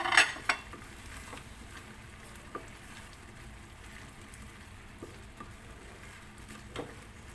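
A spoon stirring dal mixed with chopped cilantro in a pot: a few soft clinks at the start, then faint, sparse scraping and light tapping against quiet kitchen background.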